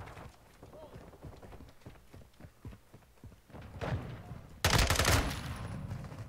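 Gunfire in Call of Duty Modern Warfare 2, a rapid string of fairly faint shots followed by a louder burst near the end, with a player's voice talking over it.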